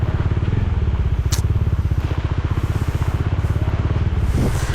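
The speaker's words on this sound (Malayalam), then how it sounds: "ബൈക്കിൻ്റെ സൗണ്ടും മഴയുടെ സൗണ്ടും" A motorcycle ridden through heavy rain in the Idukki hills gives a loud, close, steady thumping engine drone with a rapid pulsing beat, and rain hiss runs underneath.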